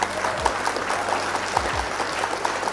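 An applause sound effect set off during a live stream: a steady, even clatter of clapping that fills the whole short stretch, with no talking.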